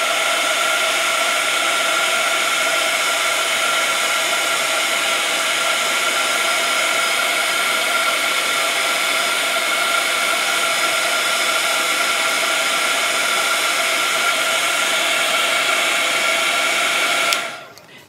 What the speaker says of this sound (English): once again we're going to take our heat gun